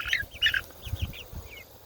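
A mixed flock of chickens and roosters makes short chirpy calls and clucks close by, several overlapping in quick succession, with soft low thumps underneath.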